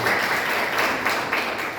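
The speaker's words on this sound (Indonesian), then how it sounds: "Berikan tepuk tangan buat Tuhan." A church congregation at a Sunday service gives a dense, sustained round of applause, many hands clapping in a thick, steady roar that holds at an even level throughout.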